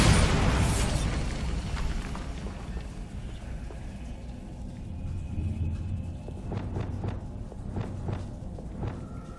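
Bombarda spell blast in the Hogwarts Legacy video game, a loud booming burst at the start fading into a rumbling game soundscape with later sharp pops and clatter.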